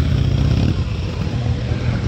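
Motorcycles at a classic and custom bike show in a Bremen hall burble with a soft, sonorous low rumble, steady and fairly close, with no talk over it.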